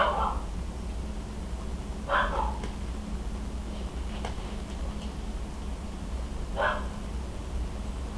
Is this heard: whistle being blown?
no